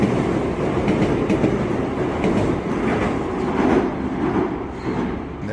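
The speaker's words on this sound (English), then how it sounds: "There goes the Shinkansen." A Shinkansen high-speed train in Japan rushes past in a sustained roar with faint rhythmic clatter, loud and close, easing slightly toward the end.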